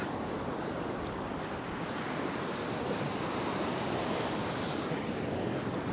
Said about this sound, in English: These waves are coming up with quite a lot of power.